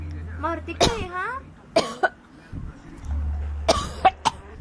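A few sharp coughs break through scattered voices, including a child's, with a low steady hum running underneath.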